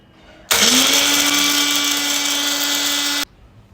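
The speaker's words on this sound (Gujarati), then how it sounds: "હવે આ મિશ્રણને આપણે ક્રશ કરી લઈએ" A blender grinding bhel puri spice masala with coriander-cumin powder: a loud, steady motor whine starts abruptly, runs for nearly three seconds, then cuts off sharply.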